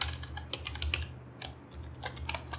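Code being typed on a computer keyboard during an Angular shopping cart project: steady, fairly close key clicks in quick uneven bursts over a low hum, with one brief pause.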